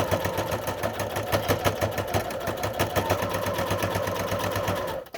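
Sewing machine running a straight quarter-inch seam while making a fabric tissue holder, a steady, fast rhythmic whirring chatter of the needle, close and loud, continuous for about five seconds before stopping abruptly at the end.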